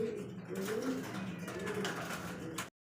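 Pigeons coo at a pigeon farm: soft, repeated throaty calls overlap close by against a light background hum.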